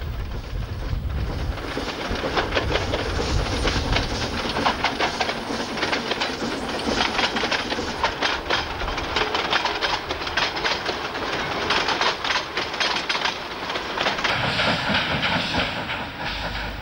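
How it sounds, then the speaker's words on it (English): A German-built G10 steam locomotive hauls a mainline excursion train in Romania, a loud continuous rumble of rolling wagons with rhythmic clattering wheels and hiss throughout, close and sustained. "Many Romanian locos originated from German builders. Examples include this G10 on mainline excursion duties"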